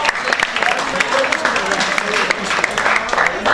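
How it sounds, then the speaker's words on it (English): Audience applause at a quiz during an entrepreneurship conference, a steady wash of many hands clapping at close range for the full stretch. "So we give the chocolate and the applause."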